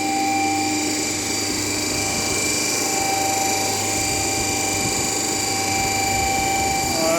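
A DC shunt generator set running at 1500 RPM gives a steady, loud, continuous machine whine with strong tonal hum, constant and unbroken throughout.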